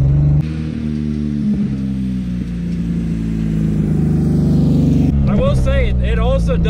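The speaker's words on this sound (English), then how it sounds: "Like the engine sound of this thing, it don't sound like it did before. That's misfiring again." A car engine running on vodka instead of gasoline, misfiring and sounding rough, idles with a steady, loud drone throughout, and a person starts talking over it near the end.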